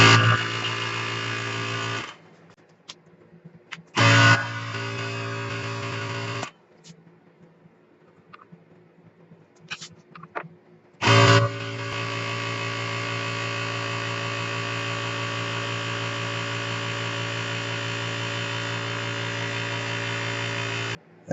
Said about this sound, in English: Then I want to turn the pump on.